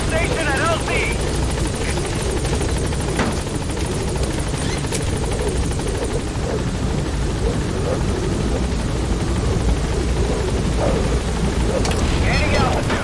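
Pequod transport helicopter from Metal Gear Solid V arriving at a landing zone, a steady loud rotor and engine roar filling the whole stretch with a few dull thuds, while a radio-style voice talks over it.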